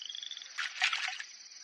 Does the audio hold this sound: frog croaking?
yes